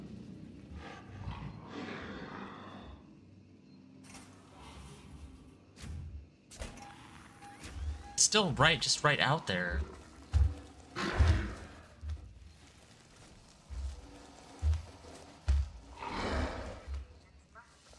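Alien in Alien: Isolation growling and roaring nearby, with intermittent guttural snarls and heavy thuds rising in loudness through the middle and later stretch, heard partly under a player's talk.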